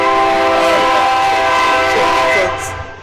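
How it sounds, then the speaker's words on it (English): A train rumbles loudly and steadily nearby, its long harmonic horn sounding over the rolling rail noise for most of the stretch before easing slightly at the end. "Hear that train coming? It's coming around."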